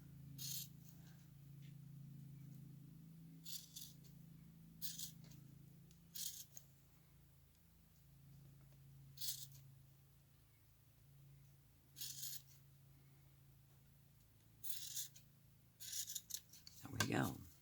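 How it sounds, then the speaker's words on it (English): Scissors snip fabric close to a stitch line while sewing a loofah mitt: short, quiet, spaced cuts, a handful over the stretch, ending in a quicker flurry of snips, against a low steady hum. "take my scissors and very carefully trim that as close as I can get"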